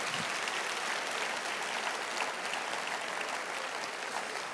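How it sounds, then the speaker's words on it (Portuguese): Sustained applause from a church congress crowd, dense and steady clapping filling the whole stretch at moderate volume, with no speech on top. "Se é para Jesus, aplauda, aplauda."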